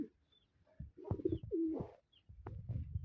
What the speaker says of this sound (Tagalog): Ano yung mga kalapate. Ang dami nila.